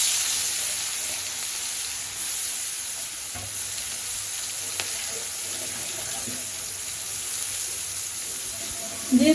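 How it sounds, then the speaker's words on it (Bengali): Prawns fry in hot oil with cumin seeds in a home kitchen pan, making a loud continuous sizzle and crackle that stays even throughout, close up, with a brief voice at the very end. "হালকা একটু চিংড়ি মাছটা ভেজে নিই"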